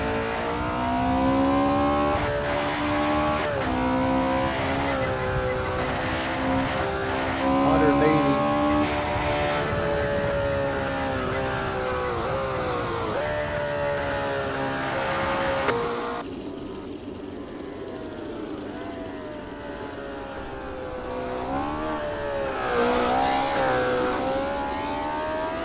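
AI race cars driving on a server in the Assetto Corsa racing game, engines revving and accelerating loudly and continuously, with pitch rising and falling through gear changes and a brief drop in intensity midway.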